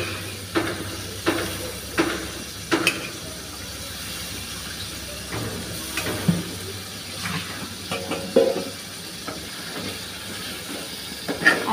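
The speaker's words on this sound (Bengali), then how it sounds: "আলুটা আগে একটু ভাজা করে ফেলবো, পরে মাছ দেবো" Chopped potatoes fry in oil in a pan with a soft, steady sizzle and hiss, broken by occasional clinks and stirring scrapes, as a mola fish curry is cooked.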